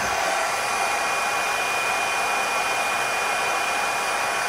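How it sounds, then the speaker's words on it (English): An embossing heat tool blows hot air at a card-making craft table, giving a constant loud whirring hiss with a steady high motor whine and no talk over it. "So I'm just going to bring in the heat tool"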